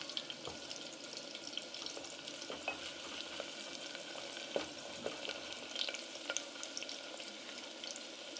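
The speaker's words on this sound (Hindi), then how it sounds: "मैंने इसमें प्याज जो है वो शामिल कर दिए हैं। अब हम इन्हें गोल्डन ब्राउन जो है वो कर लेंगे।" Onions frying in melted ghee while being stirred toward golden brown for chicken liver masala, a soft steady sizzle punctuated by regular light spoon scrapes and taps against the pan; no talking.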